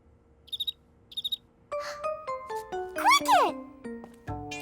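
A cricket chirps in a children's cartoon, with two short pulsed chirps near the start. Tinkly musical notes and a voice follow.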